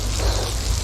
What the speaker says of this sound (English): I hope the rain stops.